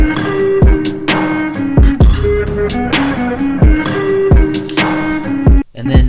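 A Squid Game soundtrack sample flipped into a beat, with the melody playing over punchy kicks, snares and pitched-up hi-hats in a steady loud loop that drops out briefly near the end.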